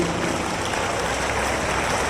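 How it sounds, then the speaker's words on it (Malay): Applause from the crowd at a youth event in Lundu, Sarawak, a brief dense wash of clapping filling the short clip, moderately close with no voices over it. "Beri tepukan kepada kita sendiri."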